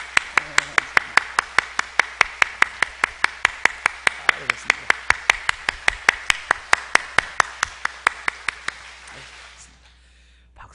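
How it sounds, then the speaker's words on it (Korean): A church congregation claps in unison, sharp, loud, evenly spaced beats for about nine seconds before stopping, with a voice speaking briefly over the start. "박수를 웃으면서 치세요."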